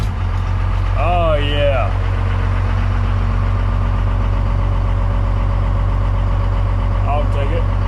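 Cummins diesel engine in a Squarebody truck idling, a loud, steady low rumble running throughout close by, with someone speaking briefly over it near the start and a short voice near the end.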